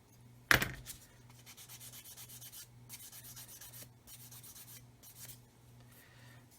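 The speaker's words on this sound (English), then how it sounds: "Let's get the knife and just trim that off." A hobby knife trims a sprue nib off a plastic part from a HobbyBoss 1/35 Land Rover Defender kit: one sharp click, then quiet, rhythmic scraping strokes in short bursts close by.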